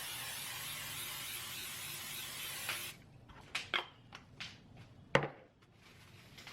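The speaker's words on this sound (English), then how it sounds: "I'm gonna go ahead and spray my baking sheet here with a little non-stick cooking spray" A steady hissing spray of non-stick cooking spray onto a baking sheet runs for about three seconds, then stops, leaving a few soft clicks and taps nearby.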